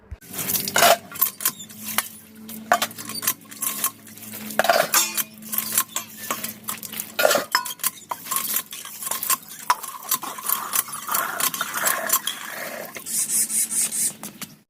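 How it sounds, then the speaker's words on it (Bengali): Dishes being scrubbed and rinsed with dishwashing soap, irregular close clinks and clatters of utensils and pots against each other, with scraping and brief bursts of water between the knocks. "এই যে বাসন মাজার সাবান নিয়ে এসেছি আর বাসন মাজার সাবান দিয়ে মাজি"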